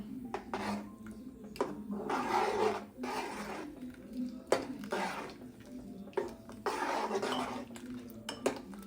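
A utensil scrapes and knocks against a metal pot of beetroot carrot curry in repeated stirring strokes, with occasional sharper clinks, fairly close and moderately quiet.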